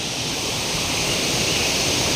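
Steady, loud rush of a swollen village stream in Konkan, India, a continuous broadband roar with no pauses and no voices.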